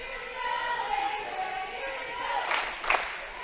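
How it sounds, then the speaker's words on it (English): A crowd cheering at a high school volleyball match between Smith Center and Clay Center, with a faint gym crowd murmuring at first and the cheers rising into a louder burst toward the end. "So everybody's getting up in this cheering."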